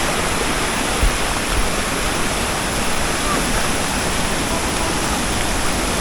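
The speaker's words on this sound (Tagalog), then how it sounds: "Tayo sa talon." Waterfall swollen by recent rain near San Pablo: a loud, constant roaring rush of falling water, close and unbroken throughout, masking any other sound.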